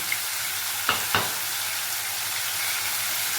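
Small anchovies frying in a shallow layer of oil give a steady, close hiss of sizzling, broken near the middle by two brief scraping clatters as the fish are moved.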